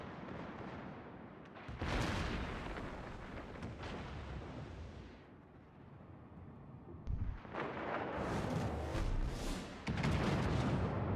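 Torpedoes and naval gunfire in the World of Warships video game rumble and boom through a continuous roar of battle, with heavier blasts near the start and toward the end.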